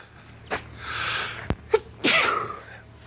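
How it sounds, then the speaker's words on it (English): A single loud, close sneeze comes after a sharp inhale, then a sudden bang and a shorter burst before the final forceful sneeze, with no talking around it. "I'm gonna sneeze."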